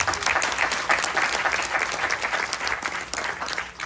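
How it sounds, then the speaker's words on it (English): An audience at an outdoor Ramayan in the Park gathering applauds the young Vyaas, steady dense clapping from many hands, close and sustained throughout without talk. "Give him another round of applause."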